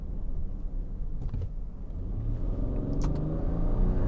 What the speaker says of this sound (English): You get no vibrations. It truly is a very smooth engine